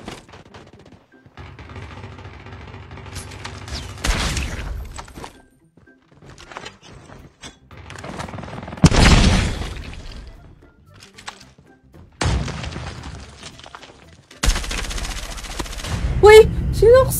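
Gunfire in an online shooter video game comes in several short, loud bursts separated by quieter gaps, with a voice talking intermittently between them.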